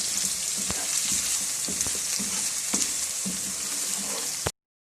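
Spices and red chilli powder fry steadily in a pan for a pakistani potato bhujia, a continuous close sizzle with brief clinks and stirring scrapes.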